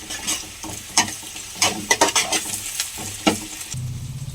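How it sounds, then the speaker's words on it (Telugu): Ginger-garlic paste frying in a pan for a nutritious curry, a steady sizzle broken by repeated scraping stirs, then a low rumbling sizzle at the end; close and fairly loud, no talking. "ఇది కూడా పచ్చివాసన పోయేలాగా వేపుకోవాలన్నమాట"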